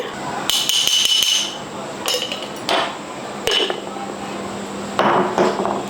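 Garlic cloves and pink salt pounded in a mortar for gongura chutney, a run of sharp, close knocks and clinks in quick bursts with pauses between.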